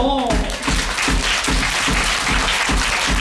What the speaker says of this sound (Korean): 잠시 내려놓고 박수 한번 주세요.